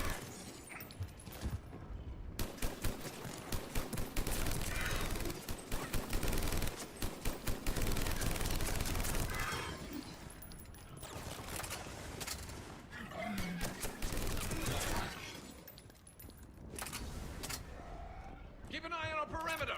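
A Typhoon LMG fires in a video game, with repeated bursts of rapid automatic fire mixed with game effects, loud and close, while someone talks over parts of it.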